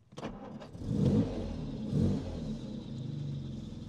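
A 1956 Jaguar XK140 SE starts with a short starter crank, fires up and gives two deep revs close by, then settles into a throaty, steady idle.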